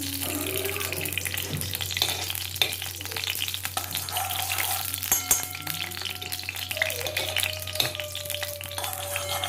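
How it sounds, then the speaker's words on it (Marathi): Ghee going into a hot kadai while carrot halwa is being made, giving a steady close sizzle with faint clinks and a thin tonal whine in the background. No one talks. "कढई आपली छान तापलेली आहे आता त्याच्यामध्ये मी तूप टाकून घेते"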